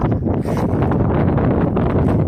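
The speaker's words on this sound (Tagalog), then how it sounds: "Lumakas na yung hangin." Strong wind roars steadily into the microphone, a loud continuous buffeting rush with gusty surges throughout.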